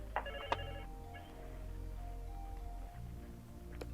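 A telephone rings in a room, a few bright electronic trill bursts over a low steady hum, moderately close but fairly quiet.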